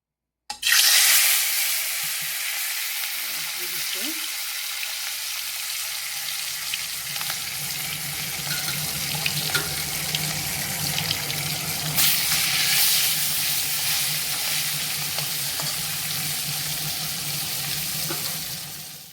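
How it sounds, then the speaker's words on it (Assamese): Fish pieces sizzle and spit in hot oil in a home kitchen pan, a loud continuous frying hiss that flares when the pieces go in and then holds steady with occasional crackles. "এতিয়া মই মাছকেইপিচ ভাজি ল'ম"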